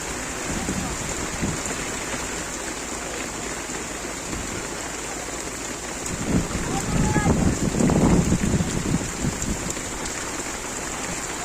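Heavy rain pours steadily while strong gusts of wind buffet the microphone beside a river with large waves, swelling louder partway through, with faint voices underneath.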